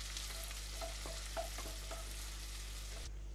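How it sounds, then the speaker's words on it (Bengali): Chopped onions frying in hot oil in a wok, a steady soft hiss with a few faint scrapes of stirring, alone, for a Bengali pineapple hilsa curry. "পেঁয়াজটা ভালো করে ভাজা হয়ে গেছে"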